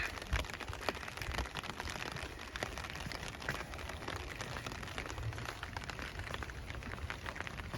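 Rain falls in Kyoto during the early evening, a steady, even hiss of drops and light patter on surfaces with no voices.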